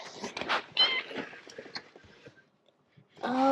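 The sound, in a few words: trapped cat meowing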